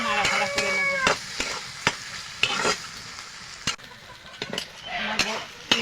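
Ground fried spices being stirred into a banana flower curry with prawns, a spoon scraping and clattering in the pot in irregular strokes over steady frying sizzle.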